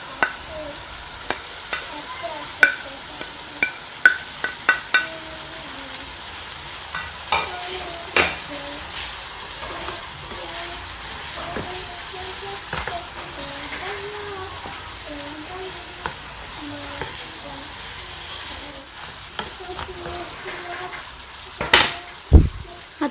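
Red and white onions with peppers fry in a pan under a low continuous sizzle, broken by scattered clicks and scrapes of stirring that grow busier toward the end.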